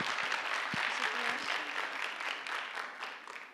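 A school audience at a Turkish student speaking contest applauds for the second student speaker, a dense wash of clapping that holds steady and fades a little at the end, with a voice briefly audible under it.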